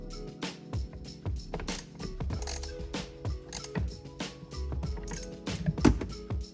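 A Torx screw being backed out of the rear-view mirror mount on a Toyota 4Runner, giving a run of small ratcheting, clicking mechanical sounds, close and fairly quiet, with no voices.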